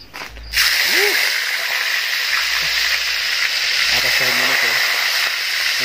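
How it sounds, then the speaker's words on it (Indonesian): Tofu dropped into hot oil in a home kitchen gives a loud, steady sizzling hiss that starts abruptly and runs on close by, with a few faint clatters underneath. "Ini mau digoreng dulu tahu nih"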